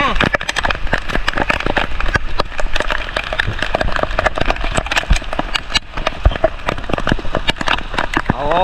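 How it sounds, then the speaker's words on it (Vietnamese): Heavy rain pours on Nui Cam mountain in Vietnam, a dense steady hiss with many sharp drop impacts close by, continuous throughout with faint engine rumble underneath and no talking. "Núi Cấm là mưa rất là lớn luôn nha."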